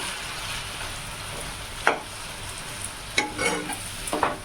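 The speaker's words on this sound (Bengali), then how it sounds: "মশলাটা যতক্ষণ না কষানো গন্ধটা চলে যাচ্ছে ততক্ষণ আমি নাড়তে থাকবো" Masala with ginger, garlic and tomato sizzles in a pan while a spoon stirs it, a steady hiss with a few distinct scraping strokes near the end, close up and without speech.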